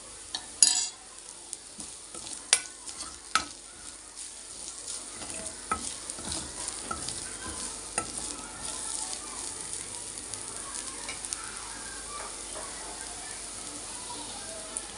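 Chili powder is stirred and fried in a pan, a soft steady sizzle with scraping stirs and a few sharp spoon clacks against the pan. A voice talks faintly underneath.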